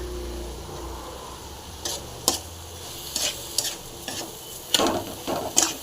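Carrot halwa being stirred in a pan for a Pongal sweet, with a faint cooking sizzle underneath and several distinct scraping strokes of the spoon against the pan, irregular and close.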